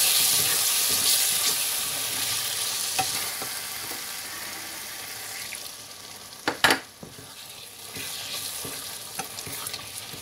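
Potatoes and eggplant fry in a pan with a steady, close sizzle throughout, stirred now and then, with a few sharp clatters of a utensil against the pan near the middle.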